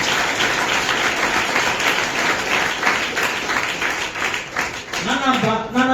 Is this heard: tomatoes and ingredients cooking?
no